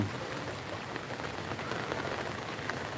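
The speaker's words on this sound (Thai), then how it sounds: "ฝนตกน้ำท่วมอยู่แล้วนะครับ" Steady rain falls during flooding near the Chao Phraya River at Soi Phibun Songkhram 1, a dense continuous hiss of drops with no voices.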